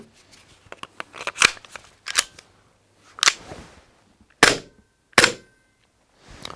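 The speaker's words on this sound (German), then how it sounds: "Ja, der Blowback ist schon mal ganz in Ordnung." Sig Sauer P320 M17 airsoft pistol cycling its blowback slide by hand with no gas, giving a series of sharp, close metallic clacks and snaps, several spaced bursts heard alone.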